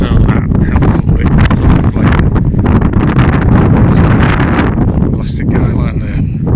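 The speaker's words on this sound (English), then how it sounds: "And now the wind is straight on the back instead of the side." Strong, constant gusts from Storm Betty batter a wild campsite tent fitted with wind deflectors, producing loud microphone-buffeting roar and flapping throughout, close and overwhelming.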